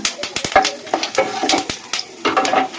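Cumin seeds, cardamom and cinnamon dropped into hot oil in a wok, crackling and spattering in quick irregular pops with metallic clinks of a spoon; no talk.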